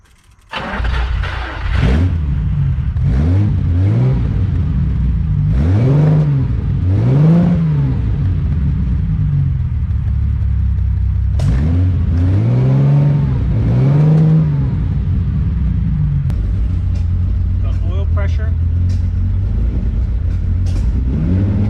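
A Ferrari 365GTC4 running from cold with no choke, its carbureted engine cranking and then catching, revving in repeated rising and falling blips before settling into a rough, steady idle, loud and close with no talk.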